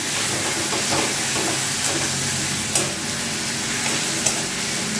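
A loud, constant sizzle comes from onion-garlic, ginger and tomato pastes frying in oil, broken by a few sharp clicks and scrapes of a spoon stirring the pan close by.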